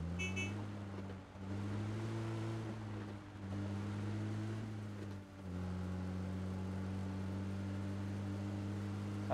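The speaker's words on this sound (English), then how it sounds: "I should just drive to the zone." A car driving in the PUBG video game, its steady engine drone holding a constant pitch with slight shifts as it travels, loud and continuous with no talk.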